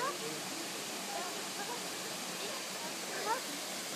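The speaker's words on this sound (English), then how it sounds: "and we got ourselves a little waterfall." A small waterfall at the bottom of a mountain beside an old house gives a steady, broadband rush of falling water that holds an even level throughout, with faint voices in the background.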